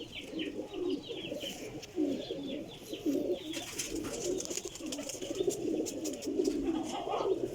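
Several pigeons in a loft or enclosure coo continuously in overlapping low, throaty rolls, with faint chirps and background clatter, moderately close and steady throughout.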